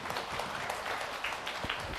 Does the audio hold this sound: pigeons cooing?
no